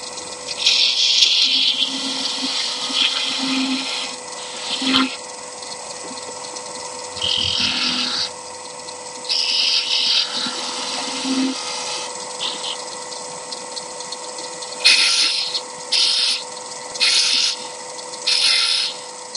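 A 1/4 inch spindle gouge cuts a small wooden Christmas ornament pendant on a lathe, producing close, intermittent scraping and rasping bursts over a steady motor hum.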